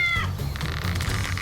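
A brief high-pitched cat meow sound effect plays early on a Wipeout Australia game-show obstacle course, fading quickly into a steady, dense background of crowd and show noise.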